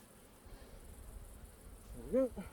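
Honey bees buzz at a hive while a super is being added, a faint and steady low hum in the background. A brief murmured vocal sound rises near the end.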